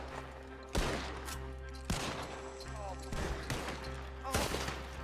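Gunfire in Red Dead Redemption 2, several loud sharp shots spaced about a second apart over continuous game music and ambience, with no speech.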